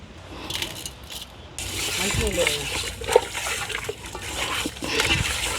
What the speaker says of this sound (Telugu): చికెను ఒకటికి రెండు సార్లు మూడు సార్లు కడుక్కుంటే బాగుంటుంది